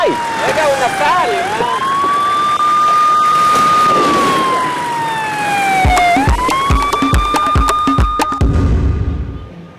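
An ambulance siren wails in a long rising and falling tone, loud and close, then shifts into rapid yelping bursts near the end, with a voice speaking briefly over it.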